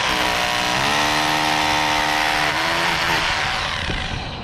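A loud, continuous hammer drill whine and rattle runs throughout, its pitch dipping slightly partway, with a steady grinding buzz up close during carpentry work.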